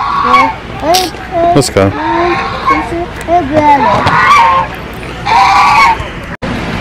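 Park waterfowl honk repeatedly in loud, nasal bursts close by, overlapping one another while people chatter and a voice breaks in between the calls.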